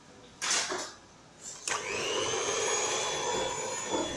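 An electric mixer creams vanilla cake batter, with a couple of brief bumps before settling into a steady, high-pitched whirring drone close by.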